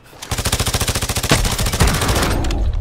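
A gunboat opens fire in a video game: a fast, evenly spaced machine-gun stream of loud close shots, then a heavier impact and a denser rumbling barrage continuing to the end, without talk.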